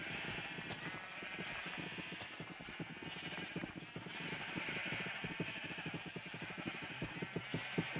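Sheep bleating in Minecraft, several wavering bleats over a dense stream of rapid clicking and thudding game sounds, fairly faint and without speech.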